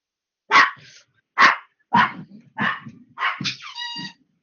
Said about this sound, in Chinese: 狗子声音好大